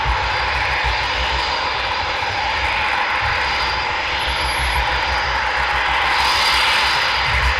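Eurofighter Typhoon jets flying at night near RAF Coningsby, a loud, steady engine roar that holds throughout with a slight rise toward the end.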